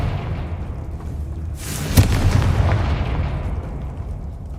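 A Confringo spell from the Hogwarts Legacy video game goes off as one loud, booming explosion that rises out of steady game ambience and then leaves a long, rumbling tail.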